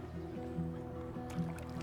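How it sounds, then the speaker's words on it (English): Paddles idle softly in calm water beside a small boat in the video game Dungeons of Hinterberg, with faint gentle lapping and dripping under a quiet low musical drone. "Just the sound of my paddles idling in the water and the occasional wave lapping at my boat."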